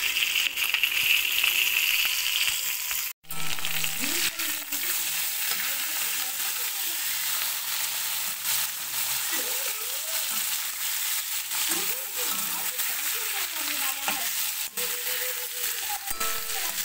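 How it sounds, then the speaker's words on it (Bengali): Fish heads fry in hot oil with a continuous bright sizzle and occasional stirring scrapes, while a faint cartoon soundtrack from a television plays in the background. "মাছের মাথাগুলো ভেজে নিচ্ছি"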